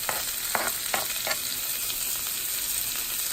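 Chopped onions sizzle as they drop into hot canola oil in a pan, with a few sharp crackling bursts early on that settle into a steady, dense frying hiss. No one speaks.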